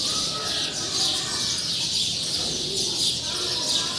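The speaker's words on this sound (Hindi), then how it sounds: "चिड़ियाँ वापस आ गई हैं और वो चहचहा रही हैं" Many birds chirp and coo in a jamun tree at evening, forming a dense, steady chorus of calls and doves cooing nearby, with no voices.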